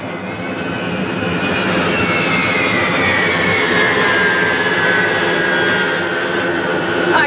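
Jet engines of an airliner on a direct flight to New York, heard from the 1960s cabin as a loud, continuous roar that rises early and then holds steady, with a faint whining tone drifting through it.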